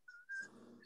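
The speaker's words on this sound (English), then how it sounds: "Amanda, that is your guard idiot barking there" A pet dog yelps and whines in a short, high-pitched burst, sounding close by at moderate volume with no talking over it.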